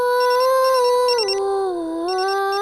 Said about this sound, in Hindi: ज़ावियार का फोन होगा